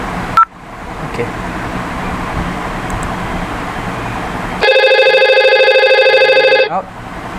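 A telephone on a telephone switching system rings with an electronic warble for about two seconds after a click and steady background hum, then stops.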